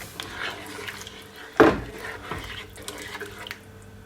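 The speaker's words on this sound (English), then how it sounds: "I'm just gonna add just a bit more water to it" A brief splash of water added to a pot of steamed fish and okra, with faint metallic clinks and kitchen clatter around it.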